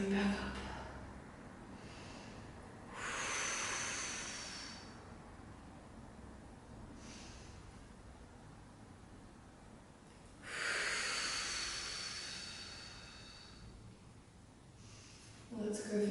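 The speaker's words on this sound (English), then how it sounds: "Breathing in nice and full. Breathing out." Slow, deep breaths during an exercise session, each long inhale and exhale rising as a soft airy hiss, two clear cycles spaced several seconds apart over a faint quiet background.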